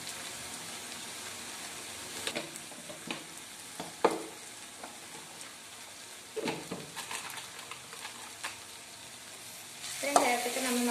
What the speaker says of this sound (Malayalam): ഇത്രയും നേരത്തേക്ക് നമ്മൾ നന്നായിട്ട് ഇളക്കി കൊടുക്കാം.